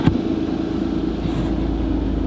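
A high-mileage Alfa Romeo Giulia Quadrifoglio engine runs with a steady low rumble, close and constant for a couple of seconds, no voices over it.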